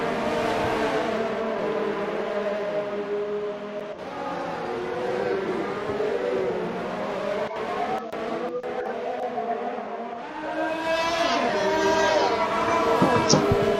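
Haas F1 car engine heard from onboard in the F1 2019 racing game at Spa, slipstreaming behind another car; a loud, continuous high-revving whine with rising and falling pitch through gear changes, with a voice talking over it.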